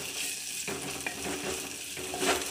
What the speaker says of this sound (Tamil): கிண்டுங்க.